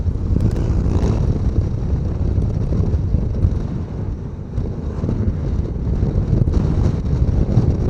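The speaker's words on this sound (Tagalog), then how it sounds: "Lakas ng hangin dito." Strong wind buffets the microphone in a steady, loud roar on the road to Barangay Bambang in Lemery, Batangas, heard from a moving ADV160 scooter ride, with no voices.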